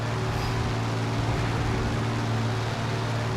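Piston aircraft engines from War Thunder, heard near a P-39 Airacobra flying among B-25 bombers, make a continuous loud droning roar with steady low harmonic hum and no break.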